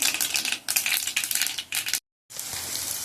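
Mung beans frying in a pan at home, a dense, bright crackling sizzle that runs steadily, breaks off briefly for a moment of silence, then resumes as an even hiss.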